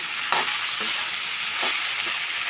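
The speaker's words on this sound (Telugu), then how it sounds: "ఇప్పుడు మనం కట్ చేసుకున్న దొండకాయలు వేసుకోవాలి." Cut ivy gourd frying with onions in a pan over a medium flame, a bright continuous hiss with a few quick stirring scrapes, close and even, no voices.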